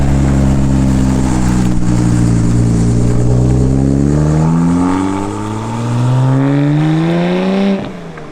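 A BMW F80 M3 fitted with an Active Autowerke equal-length midpipe revs loud and close, valves closed, its engine note climbing steadily in pitch over several seconds, easing briefly, then rising again before cutting off.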